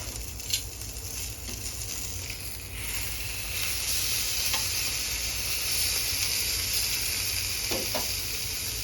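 Steady sizzling of salted mackerel grilling in a hot pan, a constant crackling hiss with occasional pops, close and moderately loud.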